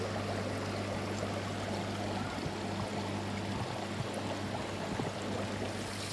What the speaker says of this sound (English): once the water goes up and that, trickles into the pipe